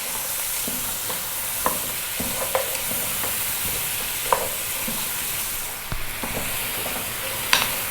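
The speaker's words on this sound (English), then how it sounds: "we're going to continue cooking for about another 5 minutes or so, stirring every now and then." A spoon stirs lamb and lentil soup in a pot, with a steady low sizzle from the hot pot and a few soft scrapes and knocks scattered through it.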